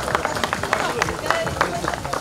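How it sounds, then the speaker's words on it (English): Scattered applause and crowd murmur at an outdoor under-17 road cycling podium ceremony at the Balkan Road Cycling Championships in Dărmănești, steady and moderately loud under faint crowd chatter. "handshake and applause for Angelos"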